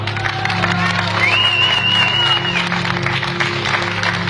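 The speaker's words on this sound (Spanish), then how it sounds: "eso merece un enorme aplauso para Morena" A crowd at a Morena political rally in Mexico applauds and cheers in a dense, sustained wash, with a loud whistle cutting through midway.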